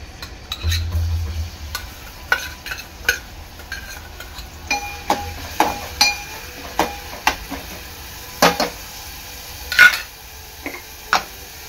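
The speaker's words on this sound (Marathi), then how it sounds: "तेल आपलं चांगलं गरम झालेलं आहे। त्यामध्ये टाकते मी बारीक चिरलेला कांदा" Finely chopped onion goes into hot oil in a pan for a cashew masala curry. A spoon clicks and scrapes against the pan in irregular taps over a faint, steady sizzle, with no talk.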